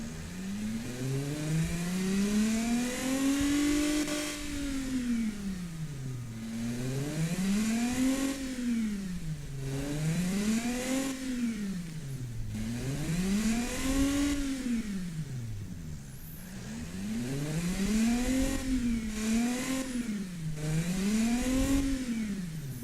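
A V6 BattleAxe V200 engine in a video game revs up and down repeatedly, its pitch rising and falling in smooth sweeping waves over a steady idle-like drone, moderately loud and continuous with no talking.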